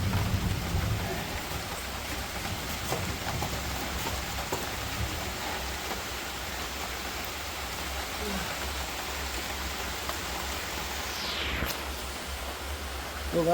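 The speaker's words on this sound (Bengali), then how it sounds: "জোরে বৃষ্টি চলে এসছে গাইজ আবার হঠাৎ করে।" Heavy rain pours down outdoors near a market during a sudden storm, a steady, loud, even hiss throughout with faint distant rumbles underneath.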